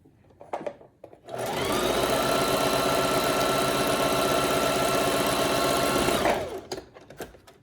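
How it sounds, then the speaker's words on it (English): A sewing machine stitches fabric close to its edge at a steady fast whir for about five seconds, with a few short clicks before and after. "because I'm using the sewing machine, I'm just going to try to go closer to the edge"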